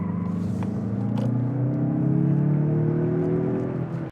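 A 2024 Mazda CX-30 Turbo Premium Plus on the move, its engine giving a steady, fairly loud drone with a whirring tone that climbs gradually as the car accelerates, over low road rumble.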